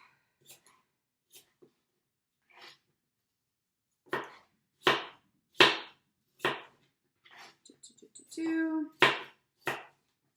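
A knife chops crisp apples into fine pieces on a cutting board, giving sparse, sharp taps at first that build into a steadier run of close, crisp chops, with a brief rattling scrape of pieces in between.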